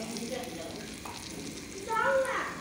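Spice paste with beef and vegetables cooks in a pan, producing a soft, steady sizzle with light stirring that briefly swells louder near the end.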